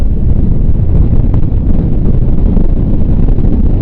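Strong wind buffets the microphone with a constant low, roaring rumble throughout.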